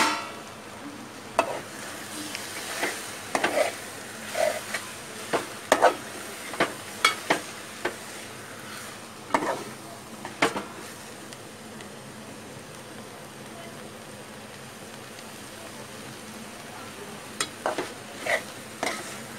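A cabbage and chana dal curry cooks in a pan over medium heat, giving a faint, steady sizzle broken by scattered scrapes and clinks of stirring.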